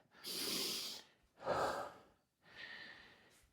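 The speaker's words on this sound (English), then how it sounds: "Take a couple breaths. Walk around. Try not to lay down on the floor. Catch your breath." Someone catches their breath after exercise with three long, heavy exhalations and inhalations, close and breathy with short pauses between them.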